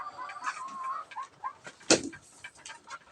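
Several chickens clucking and chattering close by, with irregular short calls and one sharper squawk, against a quiet outdoor background.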